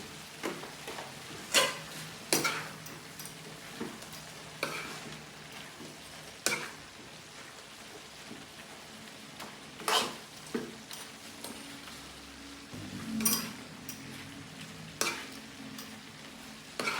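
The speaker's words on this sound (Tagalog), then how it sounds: "ilalagay na natin yung pinirito nating tokwa kanina. So isasalin lang natin ganyan din haluin." Fried tofu is stirred into cooking bean sprouts with chicken, scattered utensil scrapes and taps spaced every second or two above a quiet sizzle, close and clear, no voices.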